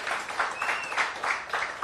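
An audience claps in applause at a surf event talk, a brief steady patter of many hands that swells in soft waves, with a voice faintly underneath.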